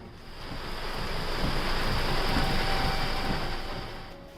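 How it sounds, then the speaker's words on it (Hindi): Heavy monsoon downpour over Gurugram, a dense steady broadband hiss of rain that swells and fades gently, loud and constant with no voices. "गुरुग्राम और एनसीआर में आज सुबह से मूसलाधार बारिश हुई"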